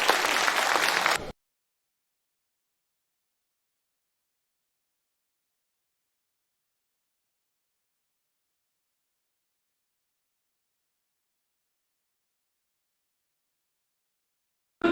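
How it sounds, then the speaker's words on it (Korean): A burst of audience clapping at a national singing contest in Yangpyeong lasts just over a second, then stops abruptly and leaves silence. "박수로 성원해 주시기 바랍니다"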